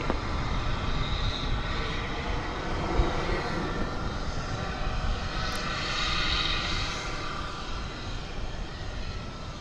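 An Envoy airliner takes off at DFW Airport, its jet engines giving a sustained, fairly distant roar that holds steady and swells slightly partway through, with no talk.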